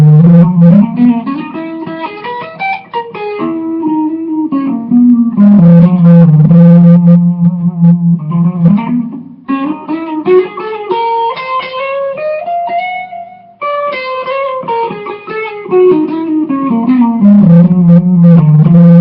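An electric guitar played through a distortion effect, with gritty sustained notes and sliding melodic lines, loud and continuous with short pauses.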